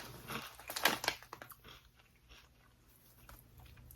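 Ridged ketchup-flavored potato chips crunched close up, with a few crisp bites and chewing that fade to quieter mastication, no talking.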